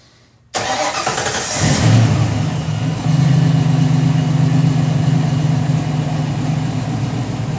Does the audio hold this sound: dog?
no